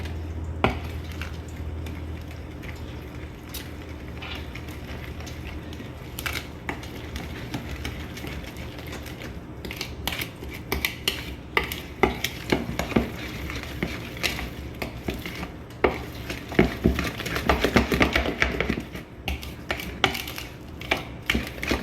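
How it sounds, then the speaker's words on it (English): A spoon or whisk works through thick homemade corn dog batter made with almond milk, a steady close scraping and clicking against the bowl that grows busier and more rhythmic toward the end. "So we're just gonna stir this up really good."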